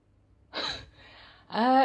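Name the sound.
cat meowing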